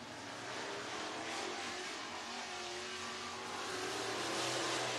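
Modified race cars roar around the Talladega Short Track oval during a Saturday night NASCAR qualifying run, a dense, continuous engine drone that swells steadily louder over the whole stretch.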